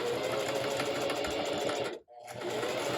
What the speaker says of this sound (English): So I'm going to sew this onto the back of the corset